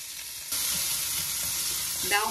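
Lots of half-moon-sliced onion starts sautéing in a pan. A close, steady sizzle rises suddenly and then holds, with no talking.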